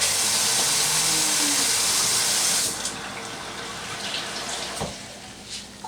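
Cold filtered water runs steadily from a kitchen faucet while goulash is being made, a loud, continuous rushing stream that cuts off partway through and leaves only faint drips and room noise.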